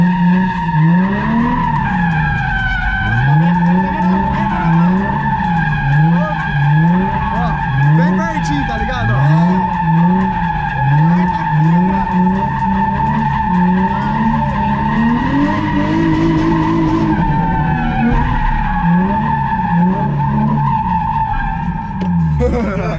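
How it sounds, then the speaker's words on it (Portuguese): A car drifting with its tires skidding and squealing continuously for over twenty seconds, the howl rising and falling in waves over a revving engine, loud and close throughout. "Sensacional fazer drift nesse lugar, mano."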